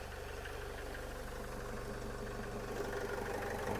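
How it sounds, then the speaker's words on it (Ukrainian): A Renault Trafic 2.0 diesel van engine idles steadily nearby with a low, even rumble and faint knocking, no voices over it. "думаю, чути, як працює мотор"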